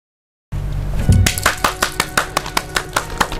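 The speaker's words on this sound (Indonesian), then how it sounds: "Kasihlah tepuk tangan. Iya, tepuk tangan." Audience clapping on an Indonesian local news programme from Jambi, a short burst building into a steady run of separate, fairly close claps after a brief silence, with a low murmur underneath.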